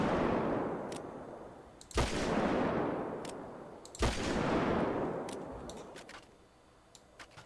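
Revolver gunshots from a FiveM GTA V sound pack: three loud, sharp reports spaced about two seconds apart, each ringing out in a long decaying echo, with faint clicks between.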